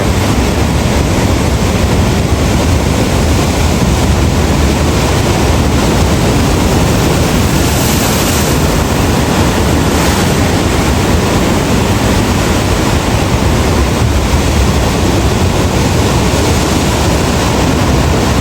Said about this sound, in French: Là-bas, ça fait des belles vagues.